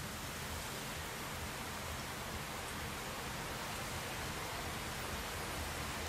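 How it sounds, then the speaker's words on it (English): Heavy simulated rain in Assetto Corsa with the SOL weather mod: a steady, dense, broadband hiss of downpour that stays even and unbroken throughout, with no voices. "we've got heavy rain starting."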